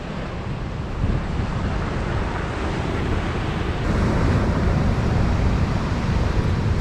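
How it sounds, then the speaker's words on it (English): Sea waves break continuously on the shore at Ogmore-by-Sea on the Bristol Channel in rough winter conditions, a steady broad roar of surf mixed with gusting wind buffeting the microphone, getting slightly louder partway through. "Waves are still just as bad as what they were earlier."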